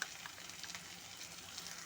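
Soft, steady sizzling of mixed vegetables frying with chili powder in ghee for navratna biryani, close but quiet, with faint stirring and no voices.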